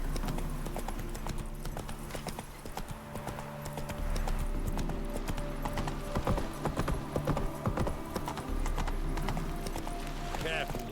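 Horse galloping in The Witcher 3 video game, with rapid, steady clip-clop hoofbeats running throughout and a whinny, under game background sounds and some talking.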